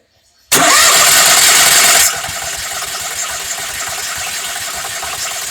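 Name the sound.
RV generator starting, 2019 Bounder motorhome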